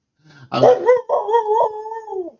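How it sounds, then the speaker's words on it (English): Dogs howl and bark up close, a loud rising-and-falling howl with yelping breaks that holds for about two seconds, with no talk over it. "dogs"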